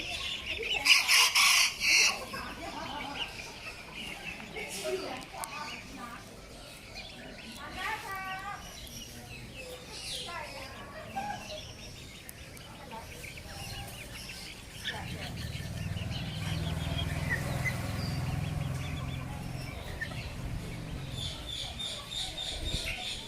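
Bantam roosters and chickens at Chatuchak market squawk and cluck, with a loud burst at the start and scattered calls after it. Market noise and people talking carry on underneath.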